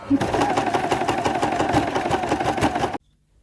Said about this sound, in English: Now I'm just sewing in a little bit, about 1 inch inside, just to help hold the pleats.